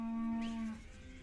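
A mother cow moos once, long and loud, calling for her separated calf, the tone sliding off at the end into quieter farmyard background.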